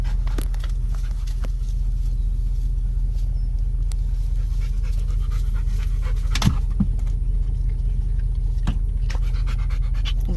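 A car-sick dog pants rapidly and steadily inside a moving car, rhythmic breaths close by over a constant low road rumble, with occasional small knocks.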